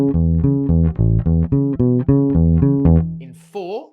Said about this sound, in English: This is the original bass line